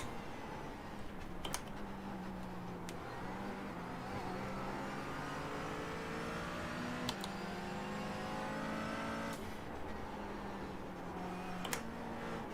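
Race car engine in the iRacing video game drones steadily at high revs, a loud continuous whine that rises and falls as gears shift and the car pushes through laps alone.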